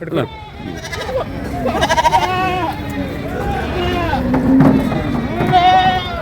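Several goats bleat repeatedly at a busy village goat market, wavering cries near and farther off overlapping one another beneath loud ongoing voices of traders talking.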